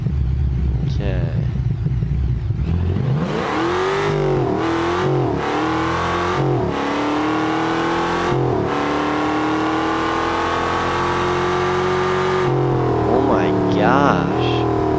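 A drag car with NOS and a supercharger engaged roars as it accelerates hard, its loud engine note climbing through several sharp gear changes close by, with a voice speaking briefly near the start and end.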